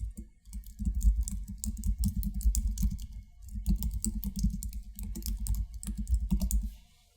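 Keys clatter on a computer keyboard as a project title is typed, two quick bursts of close, crisp tapping separated by a short pause, with no talking.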